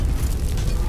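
A grenade detonates in the online shooter Shatterline, a dense low rumbling boom that fills the whole short moment at steady loudness.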